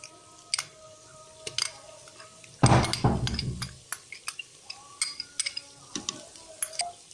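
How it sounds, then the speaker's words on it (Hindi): Garlic tipped into fried onions in a clay pot gives a short burst of sizzling, surrounded by scattered clinks and scrapes of a spoon against the pot. "अब हमारा प्याज फ्राई हो चुका है। अब हम इसमें लहसुन डालेंगे"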